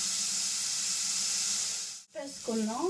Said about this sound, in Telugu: ఉల్లిపాయలు కొంచెం మెత్తబడేంత వరకు వేయించుకున్నాం